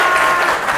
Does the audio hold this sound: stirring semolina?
no